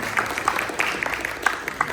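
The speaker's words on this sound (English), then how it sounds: "And one round of applause for Mayor Chow for making this happen" Audience at a teen comedy show applauds with a fairly light, distant patter of claps and a few louder individual claps standing out.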